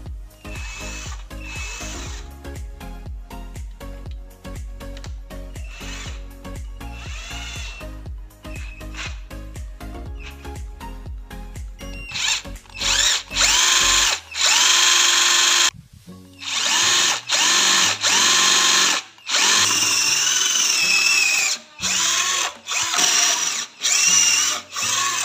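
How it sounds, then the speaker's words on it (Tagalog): A power drill bores mounting holes for a fingerprint biometric device, its loud whirring coming in close bursts of varying length that stop and restart, with softer clicks and handling noise between them. "Butasan ng drill."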